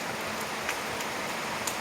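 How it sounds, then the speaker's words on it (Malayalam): Heavy rain pouring down steadily, a dense even hiss of falling water with a few sharper drip taps, close and continuous for a short moment. "ഭയങ്കരമായിട്ടുള്ള മഴയാണ് കേട്ടോ"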